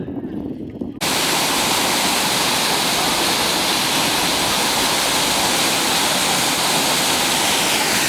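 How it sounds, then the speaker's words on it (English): A waterfall beside the Hiawatha bike trail, just past a tunnel exit, roars as a loud, steady broadband rush that starts abruptly after a quieter second and continues unbroken. "The waterfall after you come out of the tunnel."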